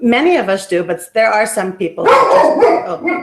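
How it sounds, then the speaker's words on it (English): A dog barks and yips several times in quick bursts, close and loud, overlapping a person speaking in a room. "sorry, that's my dog, by the way. He likes to be in all my scenes."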